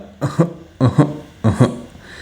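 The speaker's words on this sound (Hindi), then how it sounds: "3 अटैक सक्सेसिवली, 3 बार खांसी आएगी।" Three short bursts of coughing, each a pair of harsh hacks, evenly spaced, made by a voice acting out a coughing fit.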